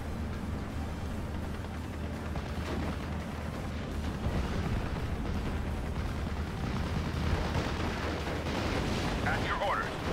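Artillery fire rumbles in Steel Division: Normandy 44 as a steady, heavy roar of distant booms and blasts rolls on without pause, with speech faintly mixed in.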